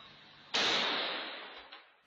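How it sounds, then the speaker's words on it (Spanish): An explosion in a shopping mall, captured by a security camera in a fast-food shop: one sharp distant-sounding blast with a hissing decay, followed by a faint second pop. "En menos de un minuto, tres explosiones causaron temor y pánico en un mall en Concepción."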